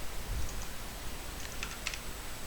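Quiet, sparse clicks of typing on a computer keyboard, a few soft keystrokes clustered toward the end against a steady background hiss.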